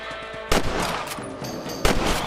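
Two sharp gunshots in the Red Dead Redemption video game, fired while hunting rabbits, with a pause of over a second between them and a faint game ambience underneath.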